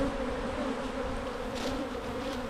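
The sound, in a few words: honey bees buzzing at an opened hive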